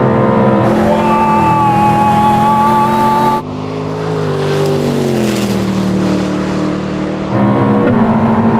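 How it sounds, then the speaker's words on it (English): A Koenigsegg supercar roars at very high speed during a GPS top-speed run against a Ferrari, its engine a loud sustained drone that shifts pitch as it pulls hard, close and continuous without talk. "Now that Koenigsegg's flying."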